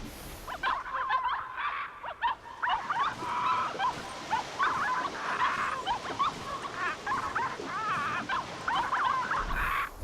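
Dog-like barks and yips from a parrot imitating a dog in the video game The Cave, repeated in bursts over about ten seconds amid game background sound, with no talk.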